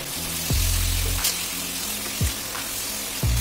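Fried kohlrabi and potatoes go into a pan of cooked-down spiced masala for a Bengali olkopi dish, giving a steady sizzling hiss broken by a few sharp low scraping thumps, no talking.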